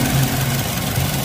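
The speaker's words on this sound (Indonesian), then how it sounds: "Nah, ini kondisi AC hidup ya, teman-teman dengarkan suara mesin, apakah masih halus ya" A used car's engine idles with the air conditioning running: a steady, close, low mechanical hum with a slight rumble and no talking.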